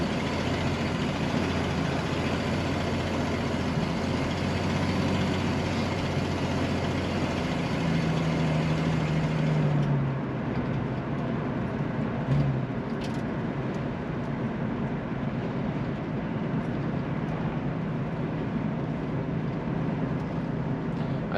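A 1966 Ford Mustang Coupe engine idling on its electric choke, a steady low rumble running continuously and close, with a slight change in tone partway through and no talking over it.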